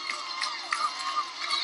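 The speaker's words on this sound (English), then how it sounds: "Everybody's cheering him on." Crowd cheering and excited babble for a contestant racing to reach a gargoyle room on an adventure game show, a steady roar with a few louder surges.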